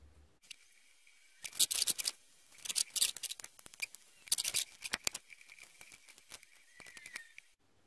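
Scissors cut a gasket for a Velocette motorcycle's Amal monobloc 389 carburettor, giving close, crisp snipping in quick irregular bursts with short pauses and no talk.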